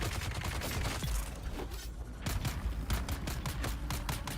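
Gunfire in the Dune Awakening video game: dense, rapid bursts of shots that crackle continuously, pause briefly, then resume in quick repeated volleys, loud and close with no speech.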